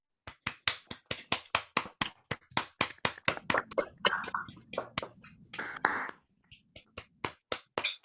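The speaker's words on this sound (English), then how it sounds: "let's give our speakers a round of applause before formally closing the seminar" Seminar participants clap on unmuted microphones during an online closing, a few close, distinct hand claps in a quick uneven rhythm, with faint murmuring voices in the background before the clapping trails off.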